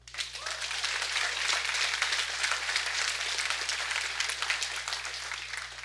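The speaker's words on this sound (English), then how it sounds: "Give God a big hand clap." A church congregation claps and applauds together, a steady, dense wash of hand claps sustained for several seconds at fairly close range, with no speech over it.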